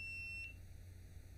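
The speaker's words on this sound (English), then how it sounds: "we shall hear the buzzer going on and off 7 times" A single short, high electronic buzzer beep from an STM32 board sounds faintly, then stops, leaving a low steady hum.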